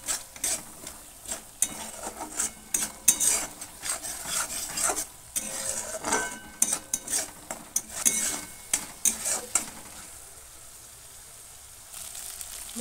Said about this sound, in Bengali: ভালো করে মশলাটা আরও একবার কষিয়ে নেব।